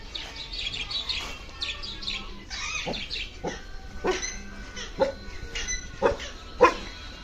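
A dog barks in several sharp, separate bursts over a few seconds, with birds chirping and calling throughout the background, at an animal rescue setting in Surat.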